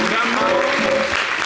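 Brief burst of audience applause at a summer television broadcast event, clapping filling the moment while a voice speaks over it.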